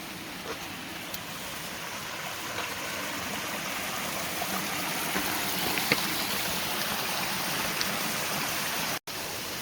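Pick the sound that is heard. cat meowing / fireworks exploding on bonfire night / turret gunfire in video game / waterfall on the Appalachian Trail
waterfall on the Appalachian Trail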